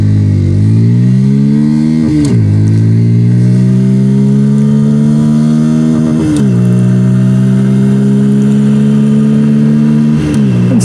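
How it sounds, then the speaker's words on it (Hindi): A 160cc motorcycle engine accelerates hard from a start, climbing steadily in pitch and dropping at three upshifts, loud and close under heavy wind rush with no talking. "ये हेलमेट का शीशा डाउन और गाड़ी को हमने स्टार्ट कर दिया है। फर्स्ट गियर पे मैंने गाड़ी को डाल दिया है।"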